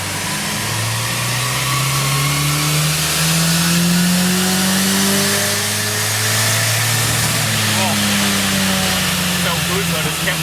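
A Holden Gemini car engine revs at about half throttle, loud and close. Its pitch climbs steadily through the gears with a short dip at a shift, and speech sits underneath.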